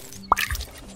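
A single short watery splash from watering crops in a farm video game, a quick drip-like plop followed by a brief trickle, close and alone.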